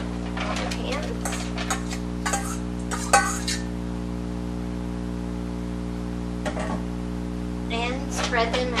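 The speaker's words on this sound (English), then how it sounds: "spread them out with the spoon that I've been stirring them with" A spoon scrapes and clinks against a pan as nuts are stirred for holiday snacks, in scattered bursts over a steady electrical hum, with some talking.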